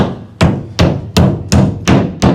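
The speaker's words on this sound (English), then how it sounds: "You can screw it or nail it. Today I'm nailing it." Steady hammer blows drive nails into sheetrock, six sharp strikes spaced roughly every 0.4 seconds, loud and close with no voices.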